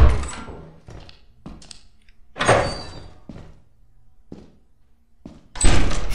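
A door shuts in the Lethal Company video game, heard as a series of separate hollow thunks and knocks spaced across a few seconds, with a louder final thud.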